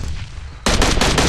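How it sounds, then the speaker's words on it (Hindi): Automatic gunfire from a battle royale video game breaks out suddenly, a loud rapid burst of shots following a quieter stretch of background noise. "गोली चलाई"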